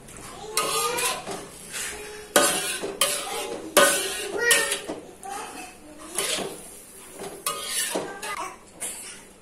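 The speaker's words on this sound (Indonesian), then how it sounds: "Aduk rata, lalu setelah itu kita tutup." Sautéed young papaya is stirred in a pan and then covered with a lid, producing bursts of clanking utensil scrapes and metal clatter with short pauses between, close and fairly loud.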